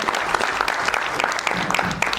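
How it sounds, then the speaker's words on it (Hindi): An audience applauds the writers and directors at a Punjabi film teaser launch, a dense, steady wash of many hands clapping close and loud throughout, with no talk over it. "आपके लिए एक बार तालियां हो जाएं यार"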